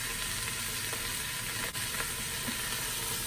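Beef sears in a Ninja Foodi with a dense, steady sizzle and crackle that holds at an even level throughout, plus a brief soft clink partway through.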